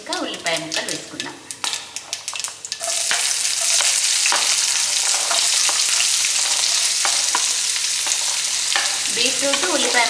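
Beetroot and onion pieces drop into a hot pan and sizzle loudly and continuously, after a few seconds of crackling spits and clinks from the pan before the vegetables go in.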